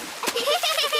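Water splashes in a cartoon as Peppa Pig's little brother George steps into a puddle, giving a short, bright splatter followed by lighter spattering against a faint soundtrack.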